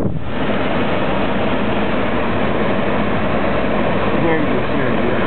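A 2002 BMW 745i engine turns over and settles into a steady idle, heard loud and close as a continuous dense rumble throughout, with a person talking over it.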